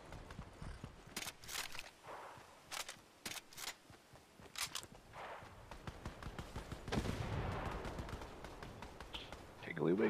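Video game gunfire, a scattering of sharp shots and bursts at varying distances, with people talking over and between them.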